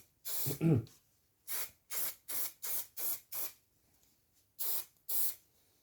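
Short, sharp hissing bursts from a can of contact adhesive spray, about nine in quick succession with brief pauses between them, close up, during a car seat repair.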